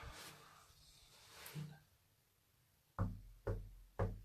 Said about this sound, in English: Again, Spirit, I'm going to knock on the wall.